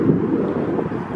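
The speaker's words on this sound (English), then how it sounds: "Probably some wind, probably can't hear me" Outdoors on city steps, wind buffets the microphone in a brief, loud, low rumble that fills the whole moment, with no clear voices above it.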